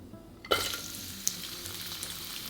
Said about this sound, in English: Stir fry until aromatic for about 30 seconds